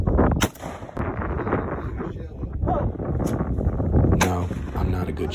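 Gunshots during a cold-weather hunt, a sharp loud report near the start followed by a second blast late in the clip, over steady wind and outdoor rumble.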